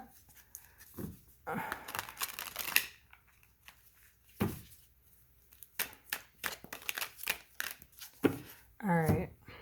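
Playing cards are shuffled by hand in short, uneven bursts of riffling and flapping, close and fairly quiet, with pauses between attempts and a voice talking in between.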